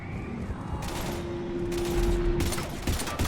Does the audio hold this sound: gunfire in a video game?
yes